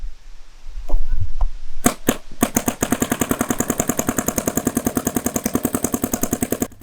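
A DYE DSR+ paintball marker fires a few spaced single shots and then a long rapid string of evenly timed pops, loud and close, with no voices.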